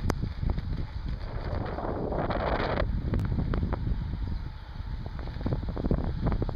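Steady, loud wind rushes across the microphone during a long road bike ride at around 33-34 km/h through open countryside, a continuous broadband roar with gusty swells and faint rattles, no one talking.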